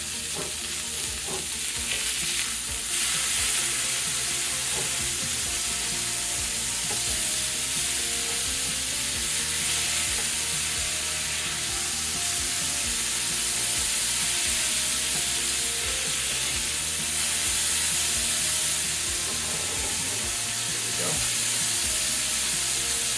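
Lamb barbacoa burgers sizzle loudly and steadily in a hot pan while being flipped, with a dense, continuous frying hiss and occasional scrapes of the spatula. There is no talking over it.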